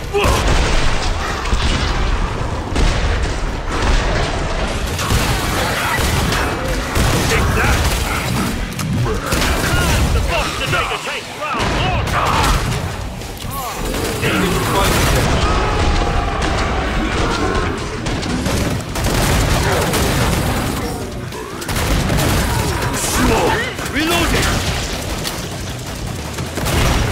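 Dense gunfire and booming explosions from Killing Floor 2 pound almost continuously, loud and close, with mechanical weapon clatter and a voice speaking over the chaos in places.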